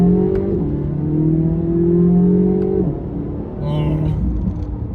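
Corvette C8 Z06 with a 5.5-liter flat-plane crank V8, a loud close engine drone rising in pitch, easing off and then climbing again, heard steadily throughout.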